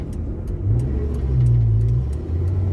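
A 1981 Ford Mustang drives along, its engine giving a steady, close mid-pitched rumble that swells slightly as it pulls, heard alone without talk.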